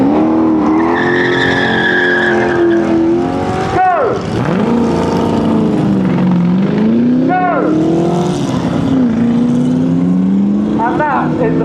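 A supercar at SupercarFest launches hard with loud, sustained tire squeal and sweeping engine revs that rise and fall repeatedly over a constant roar; crowd noise sits underneath.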